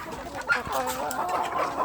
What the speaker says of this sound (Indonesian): Ini jago yang hitam putih